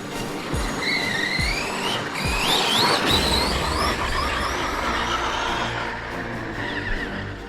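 Team Associated MT8 and Arrma Outcast RC monster trucks bashing outdoors, a continuous high motor whine rising and falling with throttle, tire squeals and gravelly scrabbling up close, with no talk.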